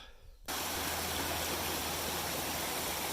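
A small trailside waterfall on the Appalachian Trail spills about four or five feet through a little trough into a pool, a loud, close, steady rush of water that starts abruptly and continues unbroken.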